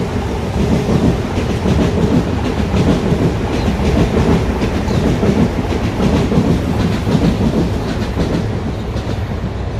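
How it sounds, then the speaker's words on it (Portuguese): A train rumbles past nearby in San Francisco with steady clickety-clack of wheels on rails, loud and continuous throughout. "Ó o trem."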